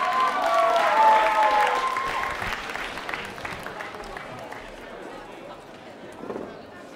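Warm audience applause at a Melodifestivalen show in Strömsund welcoming a performer onto the stage, a full crowd clapping that slowly fades under a host's voice and music.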